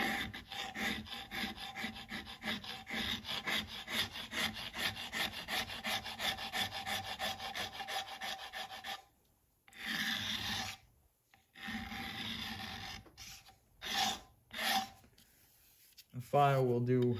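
A file rasps along a metal edge of an old bulldozer, rapid rhythmic back-and-forth strokes close up for several seconds, then short separate bursts with pauses, and a brief voice near the end.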